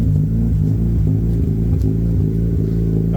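Mazda RX8 rotary engine with a Bridgeport tune and aftermarket ECU settling into a lumpy idle after starting, a loud, close, choppy rumble with an uneven rhythmic pulse and no talking.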